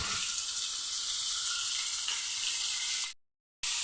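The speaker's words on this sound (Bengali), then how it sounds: "পটলটা খুব একটা বেশি ভাজবো না, অল্প করেই ভেজে নিয়েছি।" Pointed gourd frying in oil with salt and turmeric, a steady loud sizzle and hiss that cuts out abruptly near the end and then resumes.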